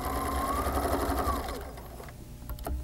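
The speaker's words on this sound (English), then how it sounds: "I'm going to stitch in a little bit because it's rather bulky" A sewing machine stitches along a bulky fabric edge with a steady, close whir that eases off partway through and ends in a few short mechanical clicks.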